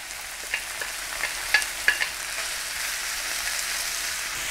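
Ginger pieces sizzle in hot oil as they are dropped into the pan, a steady bright hiss dotted with a few sharper crackles and spits, close and without talking.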